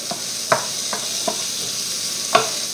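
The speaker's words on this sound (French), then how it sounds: "On ajoute nos champignons. Sans oublier de remuer." Mushrooms frying in a pan, sizzling steadily close up while a utensil stirs them with a few distinct scraping clacks spaced irregularly; no voices.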